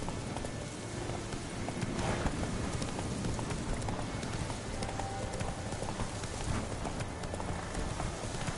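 Roach, the horse in The Witcher 3, gallops along in a fast, steady clip-clop of hooves over a dense, rain-like ambient wash, with no voices.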